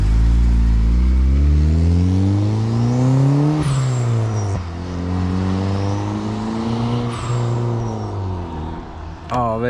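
A turbocharged Honda CR-V accelerates hard, its engine note climbing steadily through several pulls, loud and close, with a whooshing rise between shifts.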